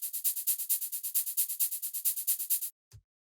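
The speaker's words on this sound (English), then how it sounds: "And then we have this operator hi-hat." Synthesized hi-hat from Ableton Operator, white noise through a bandpass filter, ticking in a fast steady run of short airy bursts for nearly three seconds, then stopping, followed by a brief low thump.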